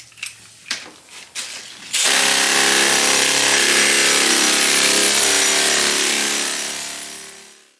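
A power sander works the fiberglass of a Blazer hardtop, a loud sustained whirring grind that starts abruptly after a few sharp knocks and runs on before winding down at the end.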